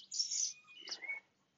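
Small cage birds such as bronze-winged pigeons chirp in a breeding aviary cage, a few bright tweets followed by a softer call, close and alone.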